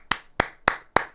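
Four sharp, evenly spaced hand claps ring out close and clear in a short burst, with no talking, set amid excited Fortnite rage reactions.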